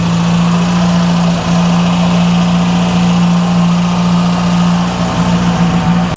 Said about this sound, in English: leave her to just idle a little bit